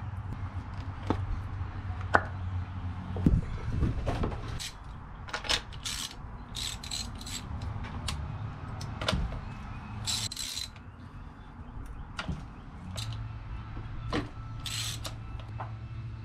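A ratchet wrench removes spark plugs from a 2016 Mercury 150hp outboard engine, with repeated close clicking, metallic clinks and handling noises at an irregular pace, with no talking.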